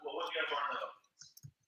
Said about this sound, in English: I'm typing, y'all.